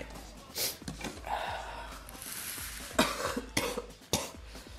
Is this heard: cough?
yes